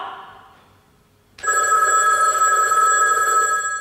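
A telephone bell rings loudly and steadily after a short stretch of quiet, a continuous bright electronic ring filling the rest of the moment on a small-town theatre stage.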